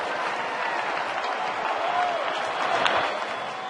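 A baseball crowd at a night game fills the ballpark with steady cheering and applause, a broad continuous roar that swells slightly toward the end.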